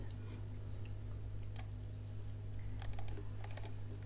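A password goes in on a computer keyboard as faint, scattered key clicks, some in quick clusters, over a steady low electrical hum, with no voices.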